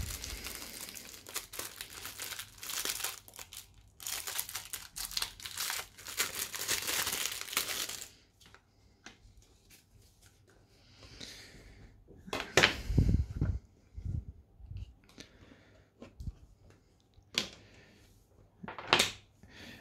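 A new phone flip cover, a generic Huawei Smart View style case, is unwrapped from its packaging: a long spell of loud plastic crinkling and rustling, then quieter handling with a few sharp snaps and taps, close by and free of talk.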